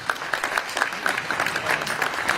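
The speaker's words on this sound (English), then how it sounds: "Give them a round of applause, all three of them" An audience at a Jefferson County Republican Party political forum gives a sustained round of applause, dense clapping, moderately loud and continuous throughout, with no voices over it.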